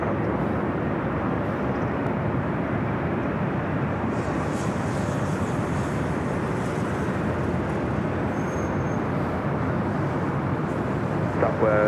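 Japan Airlines Boeing 787 Dreamliner arriving from Osaka and crossing runway 24 left at LAX, its jet engine noise a loud, steady, broadband roar throughout.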